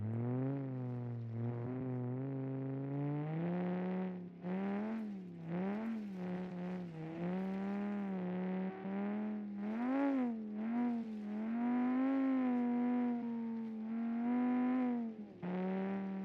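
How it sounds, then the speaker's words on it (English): A rally car with no mufflers runs in a video game, a loud continuous engine drone that rises and falls in pitch as it revs up and down, with no talking over it. "if the game sound is loud, let me know, because of course this car doesn't have any mufflers or anything like that"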